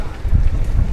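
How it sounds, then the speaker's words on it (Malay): Strong wind batters the microphone aboard a fishing boat on a rough, swelling sea, a loud continuous low roar with no speech. "Angin kuat dah."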